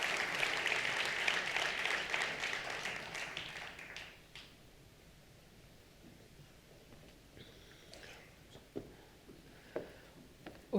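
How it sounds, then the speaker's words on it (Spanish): An audience applauds as a speaker at a 2023 conference event walks up to the stage, dense clapping for about four seconds that then thins to scattered claps over a quiet room. "fuerte el aplauso para él, hasta que se acerque aquí al escenario"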